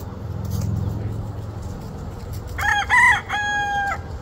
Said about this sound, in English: leave the rooster alone